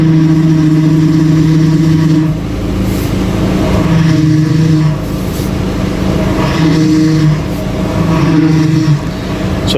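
Audi TT Mk1 1.8T Quattro engine running steadily at idle while the power steering pump gives a low, droning whine. The sound is loud, continuous and close, with no one talking.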